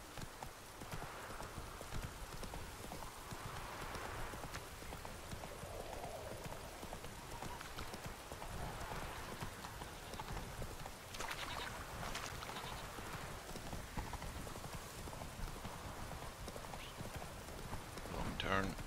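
Roach, a horse in The Witcher 3: Hearts of Stone, gallops with a steady rhythmic clip-clop of hooves throughout, under a voice talking at intervals.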